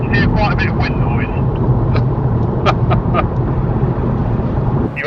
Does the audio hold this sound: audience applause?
no